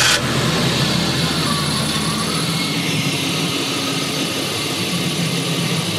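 A BMW E34 engine runs steadily at idle, close and loud, with a constant mechanical hum and a brief louder burst at the start as it fires up.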